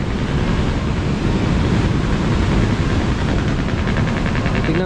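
Loud, steady rushing river current at a dam fills the clip with a constant broadband roar, joined by wind buffeting the microphone and no voices.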